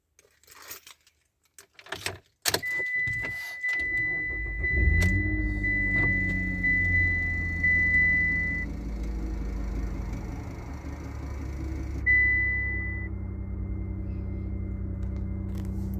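A 2007 Mitsubishi Outlander is started after keys jangle near the ignition: a warning chime sounds, the starter cranks briefly, and the engine catches and settles into a steady, slightly high idle, close and alone.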